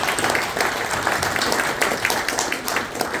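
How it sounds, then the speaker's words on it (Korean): Steady applause from an audience at a Korean National Assembly members' association anniversary ceremony, greeting the floor leader. Dense, continuous clapping fills the room at an even level throughout, with no voices over it. "큰 박수 한번 하겠습니다"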